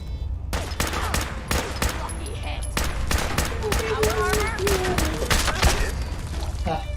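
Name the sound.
short combat rifle gunfire in a Fallout video game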